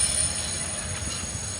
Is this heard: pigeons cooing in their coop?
no